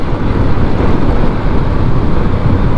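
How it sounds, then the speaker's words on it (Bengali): Strong wind before a storm roars and buffets steadily on an open highway, a continuous loud rush with no pauses. "বাতাস ছেড়ে দিছে, ঝড় হবে কিনা কে জানে।"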